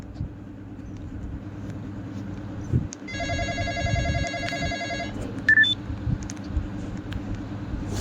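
Telephone ringing in the Roblox game The Border Experience, a short electronic trill burst over a rumbling background, followed by a couple of brief beeps.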